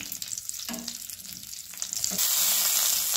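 Eggplants dropped into hot oil for stuffed brinjal, a soft crackling fry with a brief scrape, then the sizzle swells sharply and holds loud and bright for the last second.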